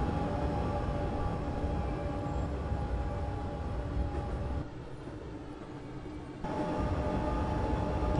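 A train rumbles along the London to Brighton line in Train Simulator 2013, a steady mechanical drone with a humming tone that drops quieter briefly in the middle before returning at full level.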